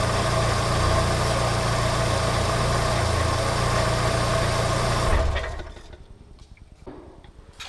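A Volkswagen Golf 1 Cabriolet engine idles with a steady, close rumble for several seconds, then shuts off and fades, leaving quiet clicks and faint background sound.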